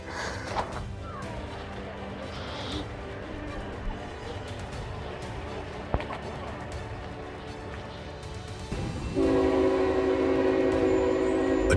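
A freight train smashes into a semi-truck at a railroad crossing in Cartersville: a rumbling train with scattered clanks and a sharp impact, then a loud sustained train horn blaring near the end.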